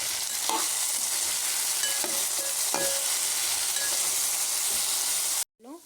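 Veg Manchurian with tomato sauce being stirred in a hot pan, a loud continuous sizzle with occasional spatula scrapes that cuts off abruptly near the end.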